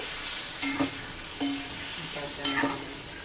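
Chicken liver frying in oil in a pan while being stirred, a steady soft sizzle with several scraping stir strokes at uneven intervals, close and moderately quiet.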